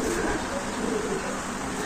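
Racing pigeons coo in low, soft rolling murmurs amid a steady background hiss, several birds blending together at close range without pauses.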